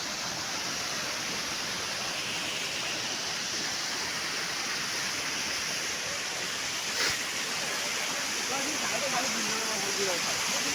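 Steady, broad rush of water pouring down the Urmagarh waterfall, a constant close roar filling the whole stretch with no break, a faint voice barely surfacing near the end.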